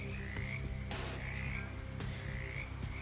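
Frogs croak in the video game Shadows Over Loathing, a repeated warbling call that recurs about every second over a steady low ambient game score, with a brief burst of noise partway through.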